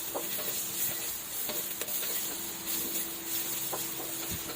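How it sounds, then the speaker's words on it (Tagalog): Onion, garlic and ginger sautéing in a pan, a steady close sizzle and hiss with occasional scrapes and taps from stirring, and no talking. "so gisahin lang natin yung ating sibuyas, bawang at luya hanggang medyo mag golden brown ng konti"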